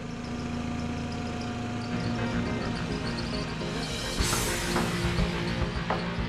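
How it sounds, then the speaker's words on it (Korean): A forklift hauling stacked bricks to a drying yard at a brickworks, its engine idling and rumbling steadily nearby with a few clanks and a brief louder burst near the end. "일정 양이 쌓이면 지게차로 들어서 건조장으로 옮기는데요."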